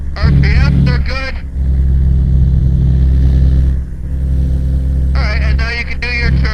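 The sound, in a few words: twin-engine light aircraft engine in flight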